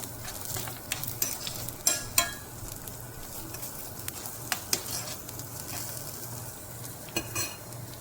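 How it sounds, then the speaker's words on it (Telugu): Garlic and coriander seeds fry in a pan with a soft, continuous sizzle, punctuated by scattered clinks and scrapes of a utensil stirring, fairly quiet and close. "దాంట్లో కొద్దిగా వెల్లుల్లిపాయలు వేగిన తర్వాత ధనియాలు వెల్లుల్లిపాయలు వేసుకోవాలి. వేసి వేయించుకోవాలి."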